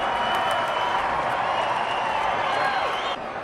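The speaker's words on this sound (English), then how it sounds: "Let's give Mike a round of applause." Steady crowd applause and cheering at a monster truck event for racer Mike Witt, dense and continuous, fading slightly near the end.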